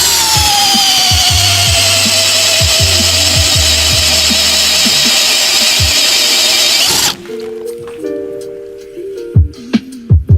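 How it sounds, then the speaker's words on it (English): A powerful drill spins a Timberjack mortise cutter, whose tool steel blades shave a tenon from a lodgepole log. It makes a loud, continuous high whine for about seven seconds, then stops, leaving a few faint knocks and rustles. "The timberjack mortise cutter requires a very powerful drill."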